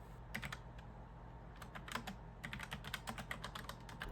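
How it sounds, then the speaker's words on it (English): Typing on a computer keyboard at a desk while writing up a crochet pattern, with quiet, irregular bursts of key clicks over a low steady hum, close and soft. "let's get set up and start typing it out"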